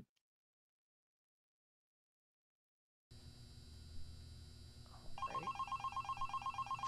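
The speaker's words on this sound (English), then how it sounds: "Phone is ringing." After three seconds of silence, a telephone rings in the game Five Nights at Candy's, a rapid trilling bell that grows louder and keeps pulsing steadily over a low hum.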